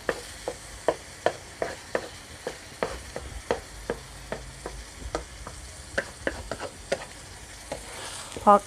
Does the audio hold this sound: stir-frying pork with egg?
yes